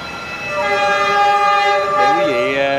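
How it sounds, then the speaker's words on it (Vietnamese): A train rolls past in Saigon in the evening, its horn blaring loud and close in a long sustained blast that bends in pitch near the end over the rumble of the cars. "Đây xe lửa nữa vậy."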